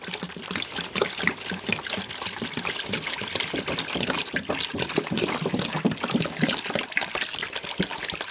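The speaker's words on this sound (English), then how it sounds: "we're going to fill this tub up with water" A tub filling with water during a Shirley Temple doll restoration, the pour a steady, broad splashing trickle that runs loud and continuous throughout, with no talking.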